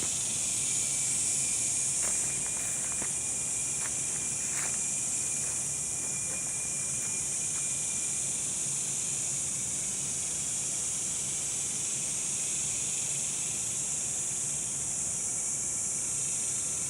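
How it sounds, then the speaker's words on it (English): Four species of cicadas sing together in a steady high-pitched buzzing drone, joined early on by a faint rhythmic chipping call from one species. "four species of cicadas. Listen!"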